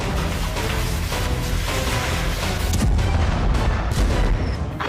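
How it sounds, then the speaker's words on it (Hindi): A continuous heavy roar of booming blasts and rumbling from a night attack on a bridge, loud and dense, like explosions and gunfire with no pauses. "रात में इस पुल पर डायरेक्ट हमला हुआ और जोरदार धमाका हुआ"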